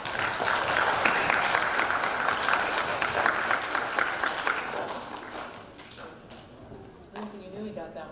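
An audience at an intermediate spelling bee in Peru breaks into applause, a dense wash of clapping that swells and then thins out, with voices talking over the tail end.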